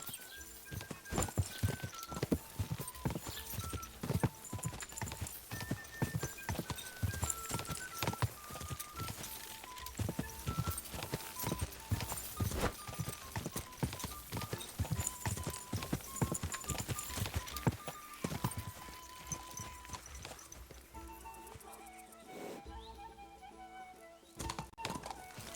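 Steady clip-clop of horse hooves trotting in Kingdom Come: Deliverance II, at a regular rhythm, close and clear over a soft musical bed, slowing and fading near the end.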